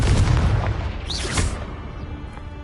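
Confringo blasting spell detonating in Hogwarts Legacy: a loud, close, booming explosion with a crackling burst that rolls off into a lingering rumble, alone with no talk.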